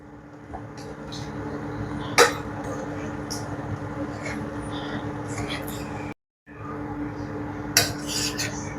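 Stirring of thick gooseberry pickle in a small, overfull vessel gives soft scraping and clinking of a spoon against the pot, with a couple of sharper knocks, close up while a person talks quietly over it.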